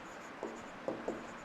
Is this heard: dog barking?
no